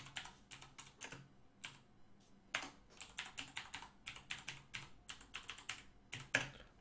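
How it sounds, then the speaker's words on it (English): Rapid, uneven typing on a computer keyboard during a livestreamed digital painting session, a steady run of close, crisp key clicks in short bursts with brief pauses, heard alone without voices. "I'm typing it."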